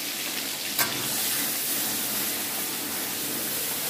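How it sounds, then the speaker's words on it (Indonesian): A blended spice paste with water bubbles and sizzles steadily in a pan as it reduces, with one brief scrape of stirring early on and no voices. "saya akan aduk-aduk seperti ini supaya tidak gosong"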